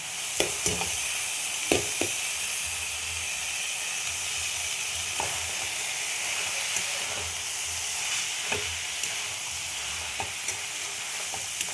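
Boiled banana flower, with turmeric and spices, frying in a pan for a Bengali recipe, a constant close sizzle and hiss broken by scattered sharp spoon clicks against the pan, no speech.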